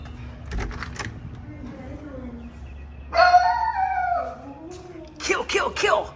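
A dog howling indoors inside an RV, drawn-out wavering howls rising and falling across several seconds, loud and close, with a short bark or yelp near the start and more howling at the end.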